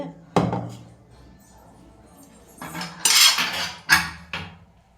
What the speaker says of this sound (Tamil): கட்டி இல்லாமல் அப்படியே கரண்டியில் நல்லா கரைச்சி விட்டுக்கலாம்